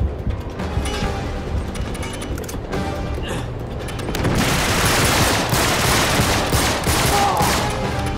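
Sustained, rapid gunfire rattles continuously in Uncharted 3: Drake's Deception, growing heavier and louder midway, with no pauses between the volleys.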